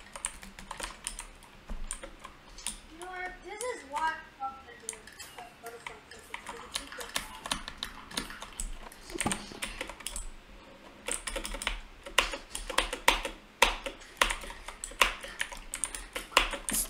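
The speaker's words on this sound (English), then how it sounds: "The most loudest switches I've ever seen in my life." New mechanical keyboard with loud lubed switches, rapid clacking keystrokes in irregular bursts, close and clear, with a brief voice partway through.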